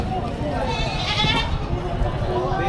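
Two male goats bleating amid steady background noise at a livestock market, one wavering bleat standing out in the middle while people talk nearby.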